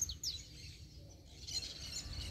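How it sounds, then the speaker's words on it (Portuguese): Pet canary singing outdoors on a walk through grassy scrubland, giving short, high, faint chirps and trills that come and go over a steady low outdoor background. "Lá, ó, tá o canarinho. Pegando uns cantinhos da hora ali, ó."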